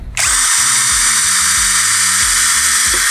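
A Xenon CDID1845 18V cordless impact drill bores into a hebel aerated concrete block, a loud steady high whine running continuously with rapid low hammering pulses beneath it.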